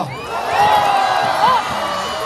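A crowd at a Marina beach arts festival cheers and applauds for visiting karagam folk dancers from Karur, a loud, steady wash of noise with shouts over it.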